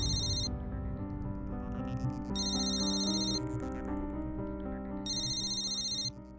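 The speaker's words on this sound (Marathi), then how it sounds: "त्याच नंबरवरून फोन आहे. उचल, पटकन उचल." A phone rings with an incoming call in a Marathi TV drama, its electronic ringtone sounding in three repeated tonal bursts over a dramatic music bed, steady and clear.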